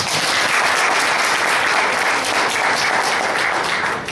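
Steady, dense applause from a church congregation fills the space, loud and continuous without a break, with no voices rising above the clapping.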